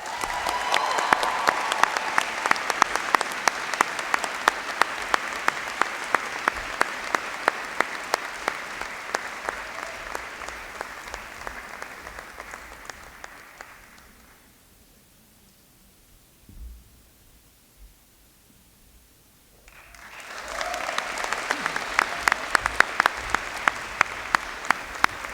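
University convocation audience applauding award winners, a large hall of steady clapping that fades to near silence and then swells back up in a second round.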